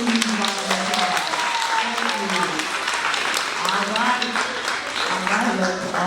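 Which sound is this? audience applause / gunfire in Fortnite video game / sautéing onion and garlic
audience applause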